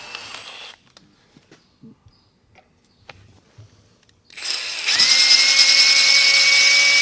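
Power drill boring with a Matco Cobalt HyperStep step drill bit, a loud sustained whine rising in pitch that starts partway through after scattered clicks and handling knocks, then holds steady to the end.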